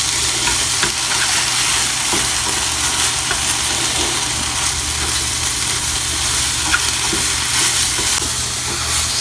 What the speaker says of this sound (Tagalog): ito na stir-frying vegetables